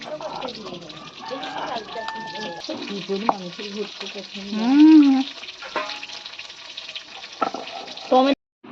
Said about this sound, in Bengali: ফুলকপিটা এখন ভাজা হচ্ছে